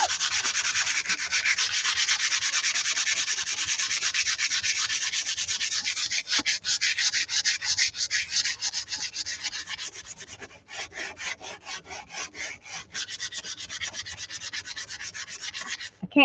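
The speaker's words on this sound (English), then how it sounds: "Can't talk and sand at the same time, I don't think." Sandpaper rubbing on a wooden lapboard by hand, a close, loud rasping in quick back-and-forth strokes, steady at first then breaking into short choppy passes, with no talking.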